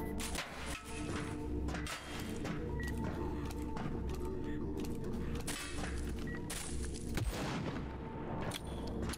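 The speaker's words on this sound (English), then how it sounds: "Shotgun." Shotgun blasts in the brutal shooter game VLADiK BRUTAL, loud repeated booming shots over a dense, constant din of combat noise and effects.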